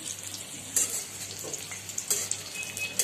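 Capsicum pieces coated in besan masala fry in a pan with a continuous crackling sizzle, interrupted by several short clatters and scrapes as the pieces are turned, heard up close with no talking.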